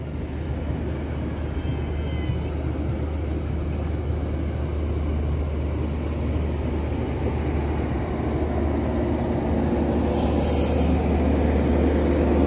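A passenger train from Garut climbs slowly on an Indonesian railway line near Gedebage and Kiara Condong, producing a continuous heavy rumble and rolling noise with faint squeals, loud and steady throughout with no talking.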